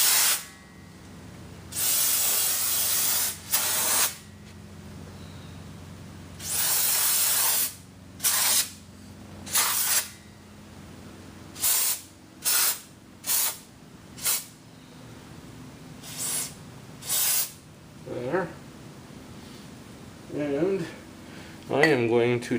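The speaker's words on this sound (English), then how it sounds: "brake cleaner, non-chlorinated. I just like to spray everything down." Non-chlorinated brake cleaner is sprayed onto the brakes of a Jeep Grand Cherokee in a series of sharp aerosol hiss bursts, some long and some short, between pauses, with someone talking faintly near the end.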